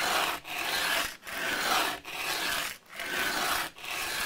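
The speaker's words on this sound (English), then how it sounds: "first thing I'm going to do is on these I always sand down the bottom of the little grub screws" Guitar bridge grub screws being sanded flat by hand for an Epiphone Dot ES339 bridge replacement, five close, even rasping strokes with brief pauses between each pass.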